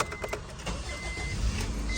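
A Honda Civic starts up after a starter replacement, its engine catching and settling into a steady, muted idle close by, with no talking.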